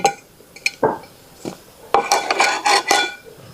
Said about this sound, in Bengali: উঠাই দিই এখন ঢাকনাটা